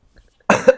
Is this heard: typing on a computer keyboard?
no